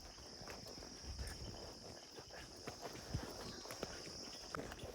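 Horse walking on a mountain trail during a ride in Gulmarg, with faint, scattered hoof clops over a steady bed of insect chirping and outdoor hiss, sounding distant and quiet.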